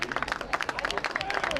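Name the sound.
audience applause at girls soccer game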